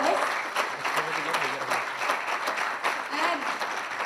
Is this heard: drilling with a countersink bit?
no